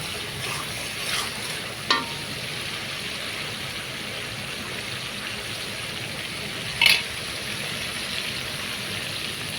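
Spices fry in a hot pan for a rohu fish and bean-seed curry, giving a continuous soft sizzle with two sharp clinks of a spoon against the pan.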